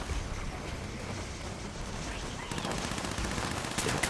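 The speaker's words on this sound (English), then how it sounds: "Shots off this guy here." Gunfire in the game Fallout 76 comes as rapid bursts over a constant background rush, with sharper repeated shots toward the end.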